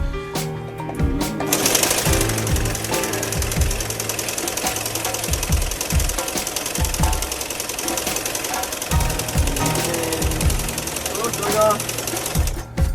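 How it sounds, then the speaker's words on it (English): A sewing machine stitches a straight line in bursts, its needle hammering rapidly for several seconds at a time and pausing between runs, fairly close and loud over a steady background. "we're learning to sew a straight line"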